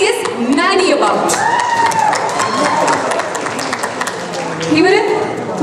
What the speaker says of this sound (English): Let's welcome with a big round of applause a charming actor that everybody is nutty about.